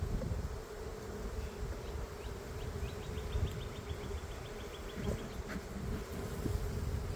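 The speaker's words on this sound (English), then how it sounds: "There's lots of bees." Honeybees buzz continuously around the hive, a dense droning swarm with individual insects passing close, under steady background noise.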